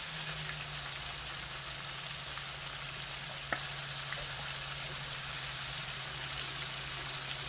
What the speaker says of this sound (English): while that is frying and doing its thing